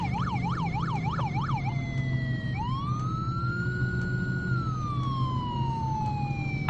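A city police car siren blares during a code 3 high-speed pursuit, loud and close, cycling through a rapid yelp before sweeping into a long, slow rising-and-falling wail.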